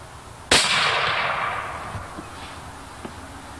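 A single sharp rifle gunshot cracks at an outdoor shooting show, followed by a long fading echo rolling away into the distance.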